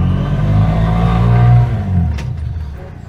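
A three-wheeled vehicle accelerates through gear changes, its engine loud and close, the drone rising and then dropping away at a shift, with no talking.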